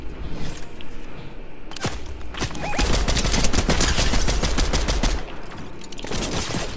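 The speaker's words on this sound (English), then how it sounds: "Where are we getting shot from over there?" Rapid gunfire bursts in the Jujutsu Kaisen video game, sharp dense volleys building from scattered shots into sustained loud firing, then thinning out near the end.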